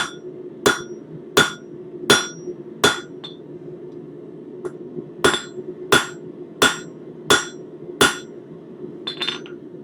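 Forging hammer striking hot metal to leave flat marks and shape a shelf: a series of sharp, close ringing blows in a steady beat, a short pause in the middle, then more strikes and a few lighter clinks over a low background hum.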